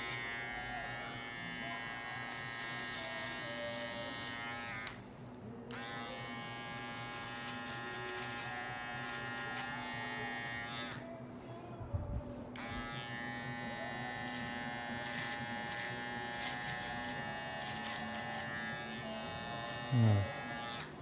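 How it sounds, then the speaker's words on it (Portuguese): Electric finishing trimmer buzzing steadily as it cuts hair during a mid fade, a close, continuous whine with brief pauses when switched off, and a faint voice talking under it. "E vou criar meio que uma nova marquinha mesmo, com a máquina de acabamento."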